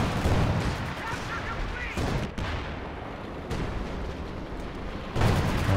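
Dense battle noise from Company of Heroes 2, a 4v4 match, with continuous gunfire and heavy artillery rumbling together. The noise is loud and sustained, with sharper blasts near the start and end.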